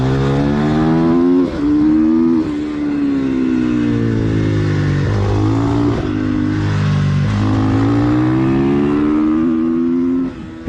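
Racing motorcycle leaving the pits onto a track, engine loud and close, revving up through gears in repeated rising sweeps with brief dips between shifts.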